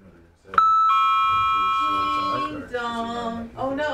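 A doorbell ding-dong sound effect rings out loud and close, two sustained bell tones, with people starting to talk over the end of the chime.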